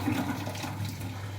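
Boiled water poured into a container, a continuous splashing, gurgling flow with a low steady hum beneath, close and moderately loud, no talk.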